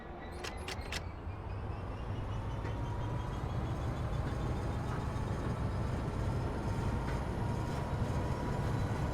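A train in a railway simulator game pulls away under power, giving a steady low rumble and drone with faint mechanical clanks, continuous and even throughout, with a few sharp clicks at the start.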